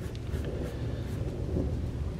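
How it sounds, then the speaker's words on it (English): Distant rolling thunder rumbles low and continuous for a couple of seconds, with a soft wash of rain or wind beneath it and no voices. "And the thunder rolls."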